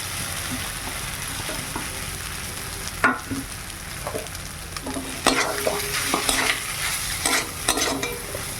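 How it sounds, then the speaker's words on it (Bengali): Potatoes and eggs frying with fried spice paste in a pan: continuous sizzling oil under repeated clattering stirs and scrapes of a spoon against the pan, with no voices. "মশলা ভাজা হয়ে গেছে, এবার আলু আর ডিমটা দিয়ে দিলাম।"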